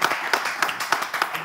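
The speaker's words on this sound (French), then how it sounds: "on applaudit le maestro" An audience at a live French stage show claps in a steady rhythm for the maestro, sharp bursts landing about three times a second at a moderate level.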